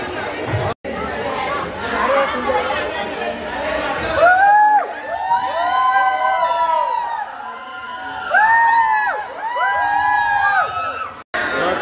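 Dense crowd chatter from a school annual sports day, a steady murmur of many voices with scattered children's shouts, heard from an elevated spot; nearby voices talk over the din.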